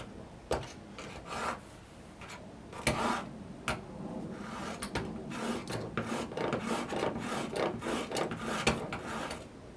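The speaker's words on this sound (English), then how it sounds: "What you want to do when you're sharpening, you just want to go until you can feel a burr on the edge of the iron" Steel plane iron rubbed back and forth on an oiled sharpening stone, a string of rasping scrapes in an irregular rhythm with sharp ticks between strokes, close but fairly quiet, no voices.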